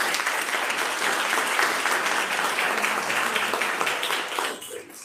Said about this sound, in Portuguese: E as palmas sejam para o Senhor Jesus.